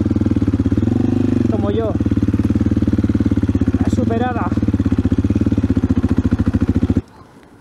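An off-road motorcycle engine runs with a loud, steady chugging idle, struggling because the gears will not engage after a muddy, rainy ride. Someone talks over it throughout, and the engine cuts off near the end.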